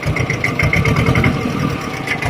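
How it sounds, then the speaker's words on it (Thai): An Iseki TS 2210 tractor engine runs steadily at idle, a loud, continuous rumble with a low throb that holds even throughout, with no voices. "เครื่องแรงนะครับ แต่ดัง"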